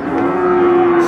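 A single loud, sustained moo from cattle at the Paingan cattle market in Winong Kidul, close by and steady for about a second.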